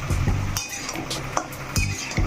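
Taro pieces fry in oil in a wok over a high flame while being stirred, giving a steady sizzle broken by several near, sharp scrapes and clinks of a utensil against the pan.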